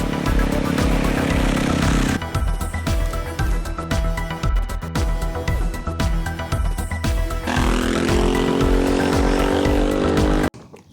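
Aprilia Tuareg 660 motorcycle with its stock exhaust can, engine running loud and close with a throbbing, pulsing roar that surges and settles before cutting off abruptly at the end.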